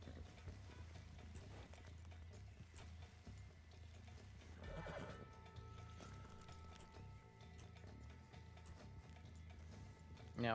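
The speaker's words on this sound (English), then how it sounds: "It sounds like a horse, though." A horse whinnying in the RedM roleplay game, one short neigh rising out of a quiet, ticking background ambience, with no speech.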